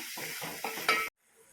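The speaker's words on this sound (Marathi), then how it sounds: "आता आपण घालणार आहोत हे तीळ आता आपण हे मिक्स करून घेऊया" Sesame seeds being stirred into a bhogi mixed-vegetable dish in a pan, giving a short burst of scraping and sizzling stir strokes that builds to a louder scrape and then stops abruptly, leaving near silence.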